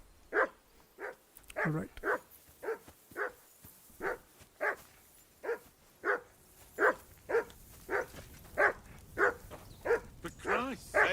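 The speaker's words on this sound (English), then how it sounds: "Call off that damn dog!" A dog in the video game Kingdom Come Deliverance 2 barks steadily, about twenty regular barks at moderate distance, with a brief spoken word partway through.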